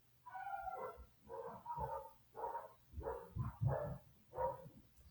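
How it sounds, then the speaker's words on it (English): Dogs barking indoors in a run of about seven rhythmic barks and yips, somewhat muffled and moderately distant, with nobody talking. "Sorry about my dogs."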